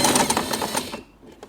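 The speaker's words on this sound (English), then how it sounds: "we are going to sew the fabric" A sewing machine stitches fabric for a hairband bow, running in a fast, close, even whir for about a second before stopping, with a couple of faint clicks after it.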